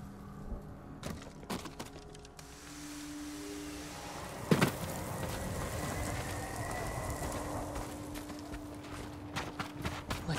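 Horse hooves clip-clop in the video game Ghost of Tsushima, a steady walking rhythm of moderate loudness over a low ambient bed, with a few sharper knocks along the way.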